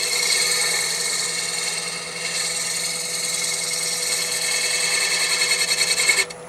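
A wooden bottle stopper spins on a lathe while a shear-scraping tool rubs along it, giving a steady hissing scrape over the motor hum for several seconds before it cuts off.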